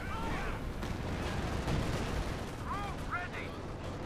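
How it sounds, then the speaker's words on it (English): Gunfire and artillery in a Company of Heroes 2 match, with a firing line hitting a Jagdpanzer tank destroyer, heard as steady rumbling battle noise and short whistling shell sounds, under a caster's commentary. "And now we got a firing line hitting the Jagdpanzer."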